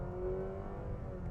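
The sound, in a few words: 2022 Nissan Sentra accelerating at full throttle in sport mode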